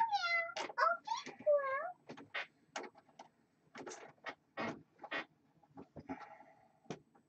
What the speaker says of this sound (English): Somebody want to let the cat in or out?